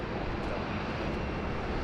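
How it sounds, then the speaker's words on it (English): A steady, broadband roar fills the air as an Etihad Boeing 747 taxis at Sydney Airport toward runway 16 right, constant and unbroken with no distinct events. "the Etihad's just popped out of the international terminal, and he's now taxiing his way up to runway 16 right"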